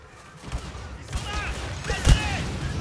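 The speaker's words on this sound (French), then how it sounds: "Je vois que ça tire là-bas." Blaster gunfire in the Star Wars Battlefront video game, scattered shots and bursts at mid distance that grow louder toward a sharp blast near the end, mixed with game sounds and some talking.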